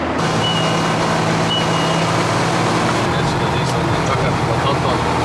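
A work truck's warning chime dings because its coolant was not checked, a steady tone running under truck engine rumble while people talk nearby.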